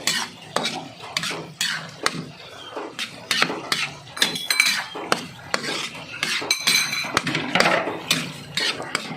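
A utensil stirs a saucy fish dish in a cooking pan, with repeated scraping and clinks against the metal under a light sizzle. The strokes are close and steady, and no one talks.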